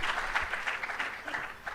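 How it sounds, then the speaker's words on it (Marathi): An audience at Savitribai Phule Pune University claps during an interview with Sachin Tendulkar, producing a steady, dense wash of applause from many hands that continues without break and with no voices on top. "टाळ्या वाजवू शकता."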